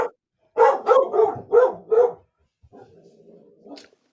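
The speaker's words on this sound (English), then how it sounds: "Stop barking, Roger." During a town Board of Selectmen meeting, a dog barks four times in a quick, steady series, close and loud, then gives a softer whining whimper after a short pause.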